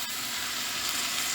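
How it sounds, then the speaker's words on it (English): Finely chopped onion sautés in a pan with a loud, steady sizzle, close up and uninterrupted, with no voices. "Now we're going to add the onions. One onion finely chopped. Letting these saute for a few minutes."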